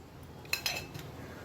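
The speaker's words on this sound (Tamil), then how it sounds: "இப்போது அடுப்பில் வானல் வச்சுக்கலாம்" A frying pan set onto a kitchen stove, giving two or three quick metallic clinks close by over a quiet background.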